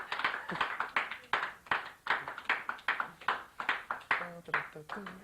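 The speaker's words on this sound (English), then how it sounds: "Hey, you guys clap." A small studio crew claps at the close of a late-night TV show, a few distinct hand claps in uneven rhythm, fairly close, with voices talking over them.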